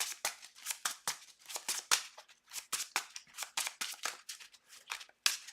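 Rapid run of crisp card-shuffling and flicking snaps in the digital card game Villains Beyond, about two dozen sharp clicks in quick irregular succession, close and fairly loud with no talking.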